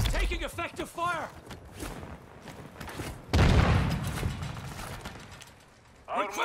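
Gunfire from Call of Duty Modern Warfare II Warzone, bursts of shots and mechanical clatter mixed with shouted callouts and game voices, getting louder partway through.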